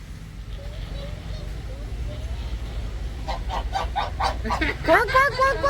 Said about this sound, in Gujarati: બ્લેક સ્વાન